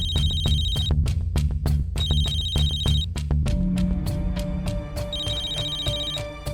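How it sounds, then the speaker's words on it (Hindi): A telephone ringtone rings at night, loud and close, in repeated short bursts of bright electronic tones over a busy rhythmic musical backing. "इतनी रात को किसका फोन आ रहा है?"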